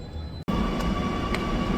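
A metro train at a railway station, heard as a loud, steady rumble of rolling carriages after a brief cut, with a faint high whine running through.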